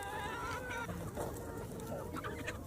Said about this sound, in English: Chickens can go crazy over beef